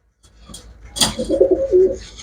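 Pigeons kept for sale give a short, close coo after a soft rustle and flutter, the call rising and falling in a few quick throaty pulses.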